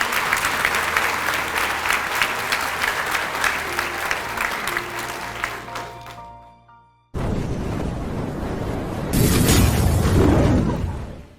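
Loud applause fills a school hall for grade 8 students at a jacket ceremony at Hoërskool Bellville, sustained clapping that fades out, then resumes in a fresh burst and swells louder before ending.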